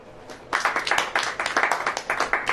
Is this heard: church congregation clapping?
yes